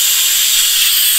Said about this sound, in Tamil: இன்னும் ஒரு ஒரு விசில் வந்ததும் ஆஃப் பண்ணிடலாம்.